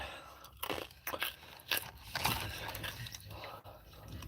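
Crunchy bites and chewing of Haagen-Dazs ice cream, close to the mic and fairly quiet, with several sharp crunches followed by wet, continuous mastication and small scraping sounds.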